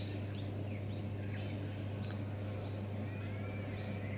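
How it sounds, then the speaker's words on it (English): Backyard birds on a two-acre property, with scattered short chirps and squawks at a distance, faint and irregular over steady background hum and hiss. "You probably hear lots of birds squawking while I'm doing my videos."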